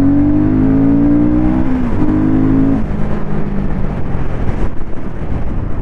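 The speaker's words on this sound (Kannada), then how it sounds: "ಇಂಜಿನ್ ಸೌಂಡು, ಎಕ್ಸಾಸ್ಟ್ ಸೌಂಡು ಈ ಥರ ಕೇಳುತ್ತೆ." A 2024 Royal Enfield Guerrilla 450 motorcycle with a six-speed gearbox runs close and loud, its engine and exhaust rising in pitch through a rev, then dropping back to a rough, throbbing idle-like rumble.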